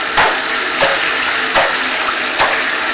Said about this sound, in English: You see all that dirty water coming out of this?